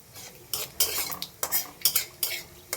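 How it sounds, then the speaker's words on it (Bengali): Black cumin, a dry chilli and a bay leaf tempering in hot oil, a soft sizzle under repeated metal spatula scrapes and taps against the pan, close and rhythmic, with no talking. "ফোড়নটা আমি ভালো করে ভেজে নেব"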